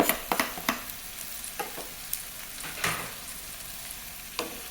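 Chopped tomatoes sizzle in a hot pan while being stirred, with a soft continuous fry broken by several sharp scraping strokes of the spoon, close and fairly quiet.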